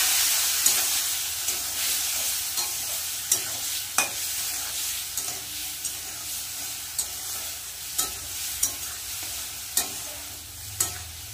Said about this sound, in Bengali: এবার আমি বেটে রাখা মশলাটা দিয়ে দেবো। এখানে আছে আদা বাটা, জিরে বাটা আর শুকনো লঙ্কা বাটা